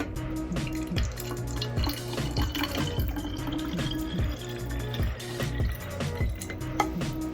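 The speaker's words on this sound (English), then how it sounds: "And then we're going to add our water." Water poured into a bottle already holding castor oil, a steady splashing, trickling fill with bubbly dripping textures throughout, close and continuous with no talking.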